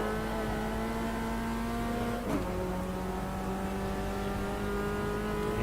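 A Volkswagen Passat race car's engine revs steadily at Bathurst in the Automobilista 2 racing game, a loud, continuous drone with a brief gear-shift dip near the middle.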